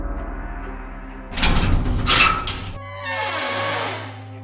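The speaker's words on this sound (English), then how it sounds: "A secret door opens and you make your way outside." A hidden stone door in a brick wall grinds open in a dramatized riddle scene: a sudden loud rumbling scrape for over a second, then a fading reverberant tail.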